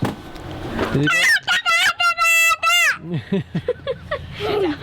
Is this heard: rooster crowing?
yes